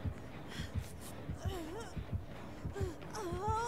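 A rhythmic, thumping heartbeat from the video game Dead by Daylight pulses steadily, mixed with wailing, moaning game sounds over it.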